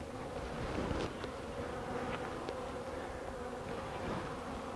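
Honeybees swarm around an opened hive, making a steady, dense buzzing drone with individual bees zipping past nearby, moderately quiet and continuous, with no voices.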